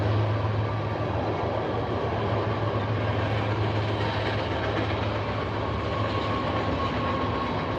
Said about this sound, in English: Just gonna wait for the train to go by because you guys will not be able to hear me.